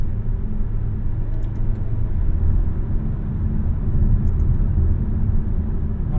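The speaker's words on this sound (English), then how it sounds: "Just a lot of road noise." Road noise fills the cabin of a 2024 Dodge Hornet R/T Track Pack on the move, a steady low rumble and tire roar with a few faint clicks.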